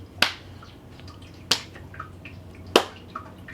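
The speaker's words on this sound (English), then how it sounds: "you can let the hands clap behind." Three sharp, isolated hand claps behind the back during yoga arm swings, spaced about a second apart, close and crisp in a quiet room with no talking.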